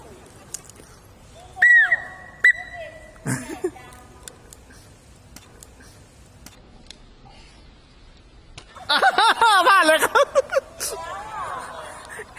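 A whistle is blown during a children's ring-toss game in a physical education lesson, giving short shrill tones amid sparse chatter, then a louder burst of rapid trilling blasts later on.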